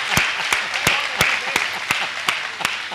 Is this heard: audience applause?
yes